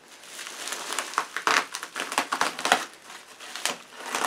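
Scissors cut through the packaging on a vintage 1970s Hoover S3001 Celebrity Custom vacuum cleaner, giving a steady run of crisp crinkling, snipping and crackling close by, with no talk.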